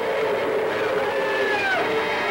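A train rolls along rails in an old black-and-white monster film, a loud steady rumble and hiss with faint squealing tones from the wheels, heard on its own without speech.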